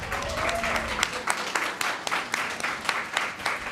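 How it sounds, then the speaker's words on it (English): Audience applause at a public policy forum on infant mortality, scattered individual claps with a looser crowd clapping behind them, a moderate burst that holds steady throughout. "Clap for my team."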